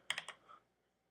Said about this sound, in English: sorry, I'm using a weird keyboard.